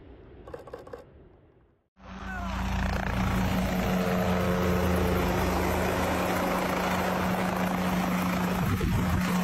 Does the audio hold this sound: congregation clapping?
no